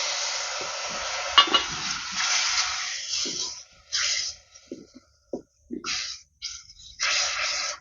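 Soaked kudampuli tamarind water hits frying masala in a pan for a fish curry, a loud sizzling burst that fades into intermittent bubbling hisses and short stirring scrapes.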